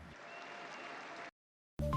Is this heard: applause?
yes